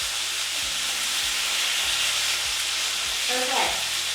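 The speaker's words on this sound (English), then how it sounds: "I can see it's browning. It's on the low heat, about 4 or 5." Goat meat browns in a pan over low heat, giving a steady, close sizzle with occasional stirring scrapes.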